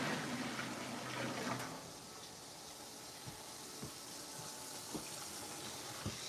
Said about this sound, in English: I'm getting water straight from my shallow well.